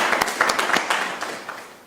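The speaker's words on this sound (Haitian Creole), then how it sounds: "Applaudissements." Short burst of audience clapping for a finalist on a Haitian reality show's season one final, a brisk patter of close hand claps fading out within two seconds.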